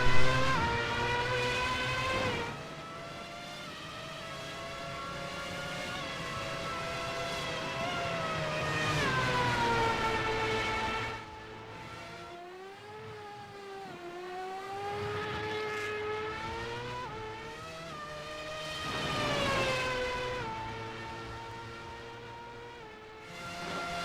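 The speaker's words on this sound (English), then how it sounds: "we're going to just sit here and listen to the cars scream" Race cars in Project Gotham Racing at the British Grand Prix scream past in loud, sustained engine whines that rise and fall in pitch as they pass, several cars in succession with a brief dip before another surge.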